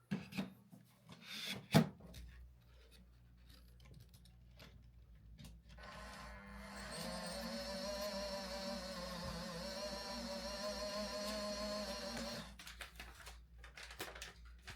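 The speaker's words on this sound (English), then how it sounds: "Go ahead and open the filaments that came with the machine." 3D printer filament spools that came with a Snapmaker U1 printer being unwrapped: a sharp rustle near the start, then a long stretch of crinkling plastic packaging handled close by, no speech.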